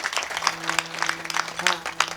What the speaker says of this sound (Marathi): जोरात टाळी वाजवा एकदा महिला मंडळी करा